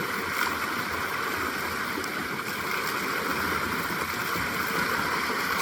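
Stream water spills into the buckets of an unsealed homemade waterwheel outdoors, a constant rushing, gurgling flow close by with no speech.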